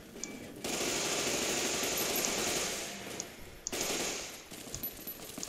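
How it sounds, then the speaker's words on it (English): Sustained rapid-fire gunfire from a modded rifle in Fallout New Vegas, a long steady burst that cuts off, then a second burst follows, with faint clicks trailing after. "Who is still shooting?"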